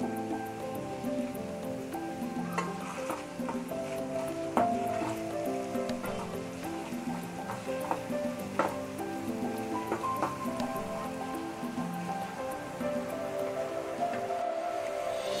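Whole round chillies hit hot oil in a dhaba-style mash ki daal, producing a steady, moderate sizzle with scattered pops and crackles and a few brief louder spits, up close and without talk.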